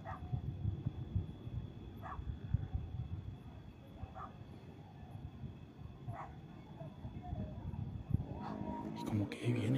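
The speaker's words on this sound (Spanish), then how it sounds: "El perro se escucha aquí abajo. Es el perro." A dog barks at a distance, a few short calls spaced a couple of seconds apart, under steady outdoor noise and low murmuring.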